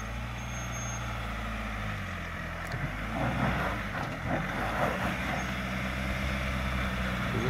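A Ford Ranger Raptor bouncing violently off-road while hunting for traction, its engine revving and straining up close with rising and falling surges and rough thumping from the chassis, no talking.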